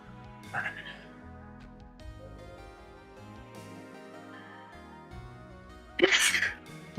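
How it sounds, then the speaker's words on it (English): A single person sneezes sharply near the end, loud and close, over a bed of game music with a softer sniff-like burst earlier. "Don't sneeze with your back, sneeze with your nose."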